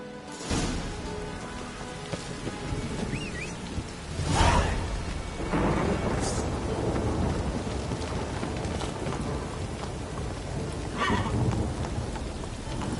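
A horse in The Witcher 3 whinnies and its hooves clip-clop along, with rain and thunder rumbling in the background; no one speaks.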